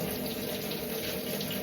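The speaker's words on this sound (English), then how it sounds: "let me fill my bowl up" Hot water runs steadily from a kitchen tap into a washing-up bowl, a continuous close rushing splash with no pauses and no voices.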